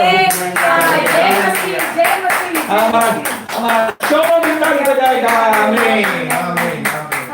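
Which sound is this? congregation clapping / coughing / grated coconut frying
congregation clapping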